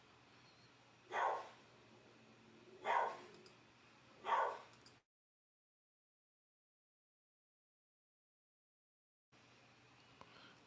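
A dog barks on a windy day outdoors, three evenly spaced single barks, moderately loud over a low steady hum, followed by a stretch of silence.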